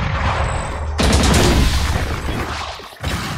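Rapid bursts of gunfire from the shooter game Valorant, loud and close, with a sustained volley followed by a brief pause and another burst.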